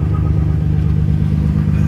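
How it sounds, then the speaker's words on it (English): Nissan R33 GTR hot engine idling steadily, a deep even rumble with a constant low hum, close and loud, holding smooth with no revving. "now it's just holding its normal idle again"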